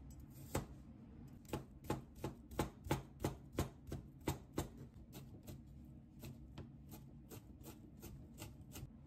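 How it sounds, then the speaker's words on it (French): Garlic and chili pepper chopped with a knife on a board for a Vietnamese dipping sauce, a steady run of sharp, close taps about four per second, loudest early and fading later, with no talking. "Je hache l'ail et piment."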